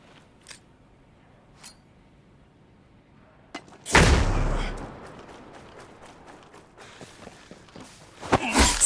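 In a stealth video game, a loud flashbang detonates with a sharp, heavy blast that decays into rumble, preceded by faint clicks and followed by scattered softer impacts and a burst of gunfire near the end.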